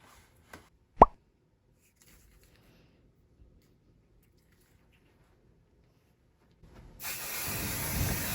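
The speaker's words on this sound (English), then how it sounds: "I'm just quickly spraying them away from my sewing machine" Spray basting adhesive misted onto layered fabric, a towel and cotton batting, for a sewn hotpad. Mostly quiet at first with a single small pop, then a loud, steady close-up hiss of spray starts near the end.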